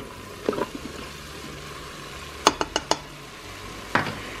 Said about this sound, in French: un peu d'huile, et je vais faire revenir donc la viande